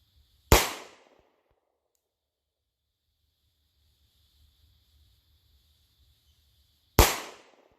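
Sig Sauer P365XL pistol fitted with a Wilson Combat grip module firing two sharp, loud gunshots about six seconds apart, each a crisp crack with a short decay, over quiet outdoor background.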